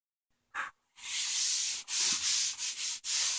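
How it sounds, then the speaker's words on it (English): Wood being hand-sanded with fine 320 grit sandpaper on a DIY bedside table, a brief rub followed by steady, close, continuous scrubbing strokes with short pauses between them. "I'm using 320 grit sandpaper."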